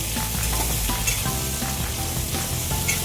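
Onion sizzling and frying in a pan for sambar, a steady close crackle with faint stirring clinks throughout, no voices.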